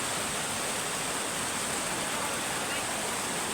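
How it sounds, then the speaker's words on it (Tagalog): Creek water flows in a steady, loud, broadband rush that fills the whole moment without a break. "itong sapa guys oh"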